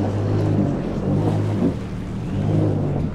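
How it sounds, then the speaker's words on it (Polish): A 15-year-old Yamaha FX jet ski reverses off a pier on a lake at Mikołajki, its engine idling in a steady, moderately loud burbling drone with a watery wash underneath. "Zbudowałem sobie skuter i spływam z takiego pomostu."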